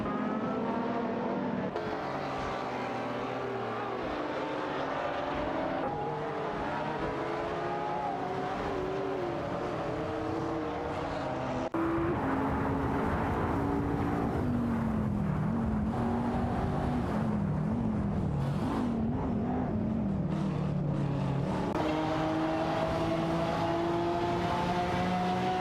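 Race cars in an AI-driven racing video game roar continuously, with engines rising and falling in pitch as they accelerate and shift, sustained and loud with no voices.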